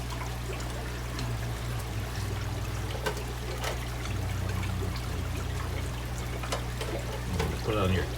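Water spitting and pouring through a fitting in a steady close stream, with a low hum beneath and brief louder splashes near the end.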